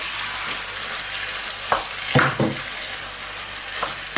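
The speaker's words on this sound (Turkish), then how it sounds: "Pişene kadar kavuruyoruz" Chicken breast sizzling and frying in a hot pan, with a steady hiss and a few scraping stirs of a utensil against the pan.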